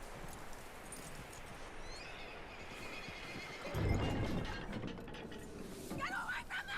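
Horse in Red Dead Redemption 2 neighing and whinnying, with hooves clopping and some mechanical clicking, amid game ambience and a louder burst midway.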